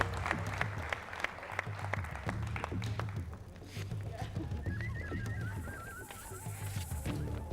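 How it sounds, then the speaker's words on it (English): A crowd applauds steadily at a university quiz competition, a sustained wash of clapping with a few sharp individual claps and a brief whistle standing out near the end. "Give them another round of applause,"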